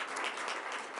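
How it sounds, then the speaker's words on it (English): An audience applauds the first woman elected mayor of Rochester, Lovely Warren, at a Board of Education Women's History Month meeting, with steady, dense clapping filling the room for the full second. "I want you to applaud her"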